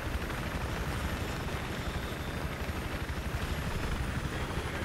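Steady, loud rotor thrum of a helicopter in Battlefield 3, continuous and unbroken, with no voices.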